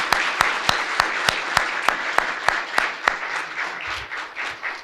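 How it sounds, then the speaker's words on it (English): Applause breaks out at a U.S. citizenship ceremony. One nearby person claps in a loud, even rhythm over a softer spread of clapping from the crowd, which thins out toward the end. "I'd like everyone just to do a round of applause."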